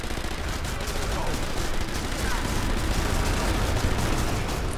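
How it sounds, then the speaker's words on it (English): Continuous gunfire and explosive bursts from the World War II shooter game Sniper Elite V2, loud and dense throughout with a co-op team under fire, and voices faintly mixed in. "Oh, we're getting shot at."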